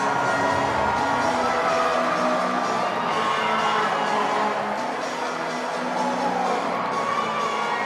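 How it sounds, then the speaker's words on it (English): A crowd at an indoor professional soccer arena sends up a loud, sustained roar of cheering and shouting that swells and holds steady, with no talk over it. "The loud roar you hear in the crowd just a few moments ago."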